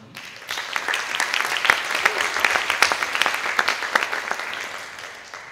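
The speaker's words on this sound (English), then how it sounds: "Let's give them another round of applause for me." Audience applause following a saxophone quartet's performance, dense clapping that rises quickly, holds steady for several seconds with scattered sharp claps, then begins to taper toward the end.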